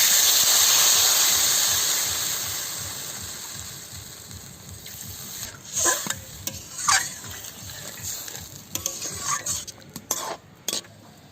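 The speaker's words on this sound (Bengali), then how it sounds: "এবার জল দেবো। এবার জল দিয়ে দিই।" Water poured into a hot frying pan while cooking a Bengali drumstick (sajne) chorchori: a loud broad hiss at the start fading away, followed by scattered clinks and stirring of a spoon against the pan.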